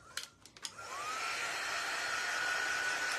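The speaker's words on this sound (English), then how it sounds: "All right, where's my dryer? Let's do this." A handheld hair dryer clicks a few times, then switches on and runs with a steady, fairly loud whooshing whine that continues to the end. It is used for a fall scarecrow craft project.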